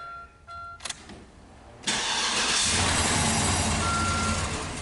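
A 2007 Cadillac DTS that has been sitting and runs poorly cranks briefly, then catches and settles into a loud, close, steady idle, with faint beeping tones before and during the start.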